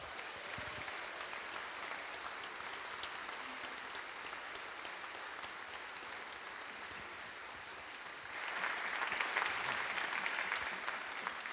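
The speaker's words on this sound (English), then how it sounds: "I think it'd be wise for us to give them a round of applause." Applause from a family Christmas audience for a children's performance, a soft, distant patter of many hands that holds steady and then swells noticeably louder near the end.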